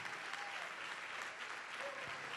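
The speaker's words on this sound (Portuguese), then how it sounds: "Vamos aplaudir, igreja, vamos aplaudir mais." A church congregation applauds in a steady, dense patter of many hands, distant and fairly quiet throughout.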